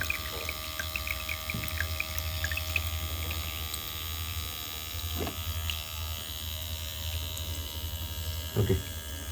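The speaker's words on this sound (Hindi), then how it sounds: "तो कुछ देर के बाद यहाँ से पानी गिरेगा।" Water is pumped through a small hydroponics working model for a school project, a steady motor hum and running-water hiss throughout, with a few faint splashes and clicks now and then.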